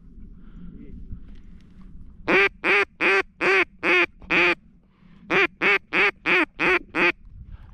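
Ducks quacking at a duck hunt: two bursts of loud, close, rhythmic quacks, about six or seven evenly spaced calls each, after quiet ambient noise.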